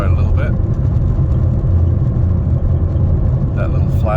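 A Ford Focus with an engine fault accelerates gently, giving a loud, steady low engine drone and road rumble from inside the car, with brief higher sounds at the start and end.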